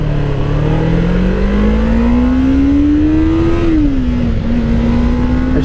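Motorcycle engine revving and accelerating, a loud close whine climbing steadily in pitch, dropping briefly at a gear change, then pulling up again, with no talk.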